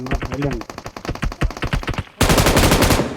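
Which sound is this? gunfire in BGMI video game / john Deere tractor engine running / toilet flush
gunfire in BGMI video game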